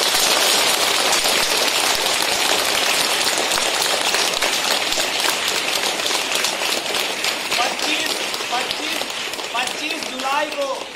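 Loud, continuous applause from a school gathering celebrating Droupadi Murmu's election as India's 15th President, a dense wash of clapping that holds steady throughout, with a few children's voices calling out near the end.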